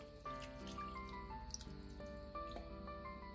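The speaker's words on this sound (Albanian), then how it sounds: "Do shtoj edhe 200 ml tjera me ujë." About 200 ml of water is poured into a pan of simmering veal with vegetables, a close, quiet trickling and splashing with bright liquid ringing, with no voices.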